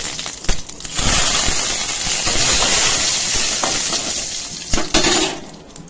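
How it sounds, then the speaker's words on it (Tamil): Mustard seeds, curry leaves, cinnamon and chilies crackle in a little hot oil in a kadai while tempering for tomato rasam. A steady, close sizzling hiss runs throughout, with a few sharp pops and clinks. "அடுத்து கடாயில் கொஞ்சோண்டு எண்ணெய் விட்டு கடுகு கருவேப்பிலை 3 பட்டை மிளகாய் போட்டு தாளிச்சிட்டு"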